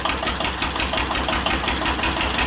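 A 1941 Witte one-cylinder diesel engine powering a Dieselectric plant runs steadily with a slightly worn governor, giving a loud, close, even chugging beat with mechanical clatter and no talk.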